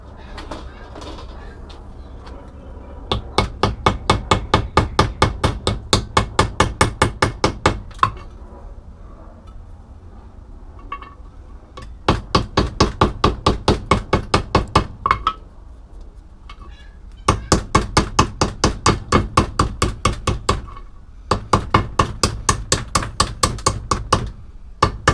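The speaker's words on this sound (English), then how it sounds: "there's borax stuck all to it, so I'm going to have to chip away at some of this stuff." Rapid, sharp metallic taps of a hammer and fine chisel chipping hardened borax off a small gold button, delivered in several long rhythmic bursts separated by brief pauses, close and clear.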